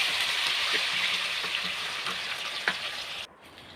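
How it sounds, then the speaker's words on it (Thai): Banana blossom fritters deep-fry in hot oil, giving a continuous loud sizzle and crackle with occasional stirs and pops, before the sound drops away sharply near the end. "เดี๋ยวเราจะทอดส่วนที่เหลือให้หมด"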